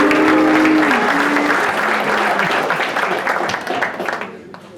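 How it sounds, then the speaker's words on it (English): Graduation ceremony audience applauding the campus director, full sustained clapping from a large crowd with voices and cheers mixed in early, gradually thinning out toward the end. "So go ahead and give him a round of applause."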